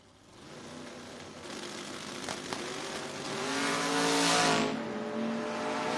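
Drag-strip launch of door cars, a Camaro among them, as engines roar off the starting line with rising revs and tire noise, loud and sustained with a swell near the end.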